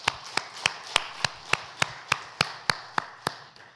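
A church congregation claps together for birthdays, about thirteen sharp claps in a steady even beat of roughly three per second, fading slightly at the end, with no talk.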